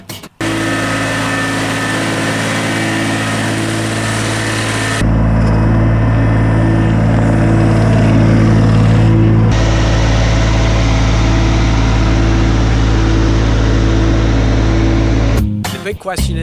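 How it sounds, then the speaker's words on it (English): A Case DX18E subcompact tractor engine runs steadily at idle, a constant low rumble with a hum, getting louder and rougher partway through before cutting off near the end. "That is the sound of a DX18E subcompact case tractor."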